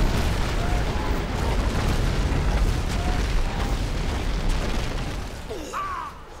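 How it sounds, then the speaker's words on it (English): Artillery barrage in the strategy game Rise of the Witch-King, heard as a continuous, dense rumble of distant blasts and booms that holds steady and thins out near the end. "oh, we have another barrage"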